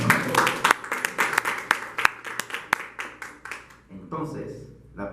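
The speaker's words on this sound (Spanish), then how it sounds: "Denle un aplauso al Señor." Church congregation claps along rhythmically in quick, even beats, loud and close, fading out after a few seconds with a brief return of noise at the end.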